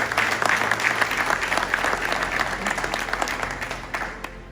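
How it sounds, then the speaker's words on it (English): An audience at a school district Veterans Day board event applauds to recognize a past board member, a steady burst of clapping that thins out toward the end. "a round of applause"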